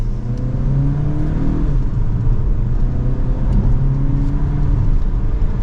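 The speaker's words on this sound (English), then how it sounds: "let's pop it into the sport mode setting again. We will give it another acceleration." A 2023 Volkswagen Tiguan 2.0 turbo SEL R-Line in sport mode accelerating hard from second gear, its engine note droning loudly and steadily throughout with rising harmonics and a brief shift-like dip midway.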